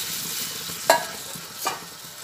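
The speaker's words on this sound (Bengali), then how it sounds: "মৌরি আদা এটা একসঙ্গে একটু ভেজে নিচ্ছি অল্প করে" Fennel and ginger fry in a small amount of oil in a pan with a soft, steady sizzle, broken by two short scraping stirs close by.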